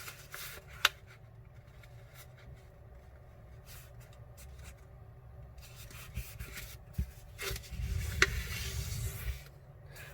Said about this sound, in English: I'll fold straight to the center crease.